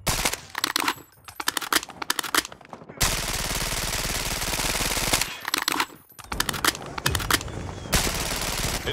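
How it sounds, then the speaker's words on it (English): A hostile sentry gun fires in Call of Duty Mobile: loud, sustained machine-gun bursts rattle in long continuous strings, broken by brief pauses and scattered sharp cracks. "Be advised, hostile sentry gun spotted."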